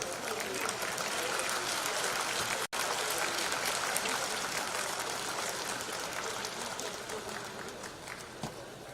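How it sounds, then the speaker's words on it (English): Sustained audience applause at a felicitation ceremony honouring former chief justices and judges, a dense, steady wash of clapping that fills the whole stretch without a break, fading slightly toward the end. "I request everyone to kindly give a big round of applause."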